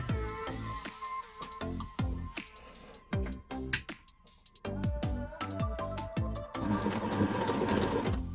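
A sewing machine stitches through a thick denim jeans hem in rapid bursts of close mechanical clatter, pausing briefly between runs, then running steadily.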